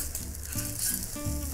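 Okonomiyaki topped with egg sizzles steadily in a hot pan as it is flipped, a close, continuous frying hiss with faint low clunks from the pan underneath.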